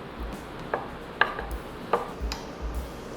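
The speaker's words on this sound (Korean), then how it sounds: "그리고 이번에는 아까 말했던 최고급 보스턴 참치를 한번 썰어 보도록 할게요" A knife cuts premium Boston tuna, including the fatty belly, on a board: a few separate, crisp taps spaced about half a second apart, close and fairly quiet, with no talking.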